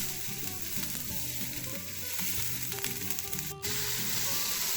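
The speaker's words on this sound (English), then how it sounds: "After adding the shiitake mushrooms and a little more oil, stir around and keep it from burning." Shiitake mushrooms stir-frying in oil, close and loud: a dense, continuous sizzle with crackling that holds steady throughout, and a brief sharp click near the end.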